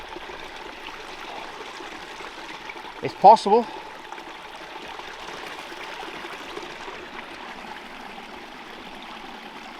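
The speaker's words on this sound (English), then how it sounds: "Okay, it's a little stream." A small forest stream trickles steadily in the background throughout. One person speaks briefly partway through.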